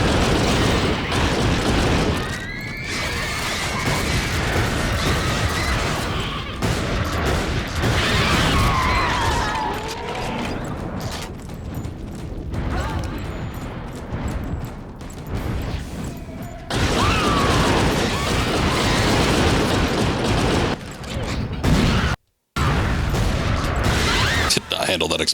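Explosions and crashing gunfire from the Darkwatch video game fill a dense, loud mix, with heavy booms and metallic impacts running almost continuously, a brief cut-out near the end, and a player talking throughout.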